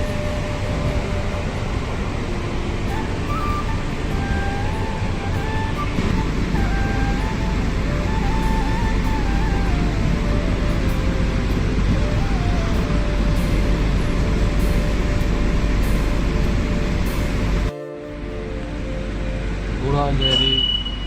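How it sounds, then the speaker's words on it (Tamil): Steady, loud rumble of a Chennai local EMU train in motion, heard from inside an air-conditioned compartment, with continuous rolling noise and a constant hum that briefly drops out near the end before resuming. "இதெல்லாம் இந்த ட்ரெயினில் பார்த்தீங்கன்னா மெட்ரோ ட்ரெயின் மாதிரி ரொம்ப குவைட்டாலாம் இருக்காது"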